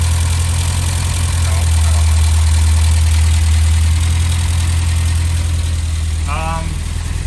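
An 1800ES car engine idles with a steady low rumble and hum throughout, while someone talks over it nearby.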